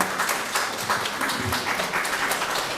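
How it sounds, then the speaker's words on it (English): Applause from an audience at an African expat empowerment forum, a steady wash of many hands clapping for nearly three seconds at moderate level, fairly even with no voices standing out. "Wow, a round of applause, guys."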